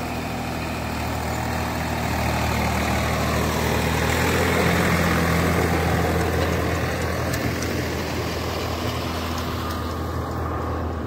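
A tractor engine runs steadily while a rotavator tills farm soil, a continuous low mechanical drone with broadband churning noise, even in loudness and fairly close.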